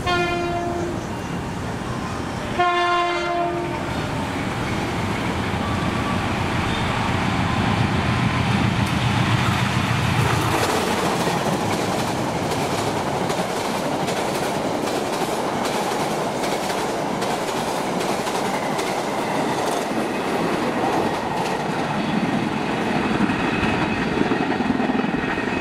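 Kalmas cargo train locomotive pulling away on Indonesian rails toward Cikampek: a sustained diesel rumble with a brief horn-like tone near the start, then steady wheel and rail noise building, clattering and continuous throughout.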